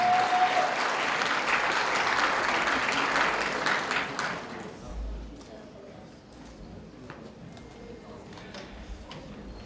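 Loud audience applause fills the room for about four seconds, then thins into scattered claps and crowd murmur.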